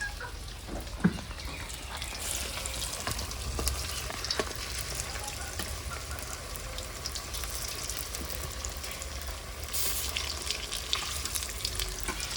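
Cabbage koftas frying in hot mustard oil, giving a dense, continuous bubbling sizzle that stays loud and even throughout, with an occasional light clink; no voices.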